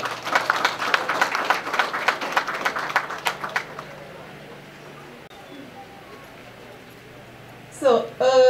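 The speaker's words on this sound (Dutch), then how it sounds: "Mag ik een applaus?" A crowd applauds the district commissioner of Marowijne, Mrs. Domingue, at an event in Moengo. The dense, steady clapping lasts about three seconds, then fades into near silence before a voice begins at the end.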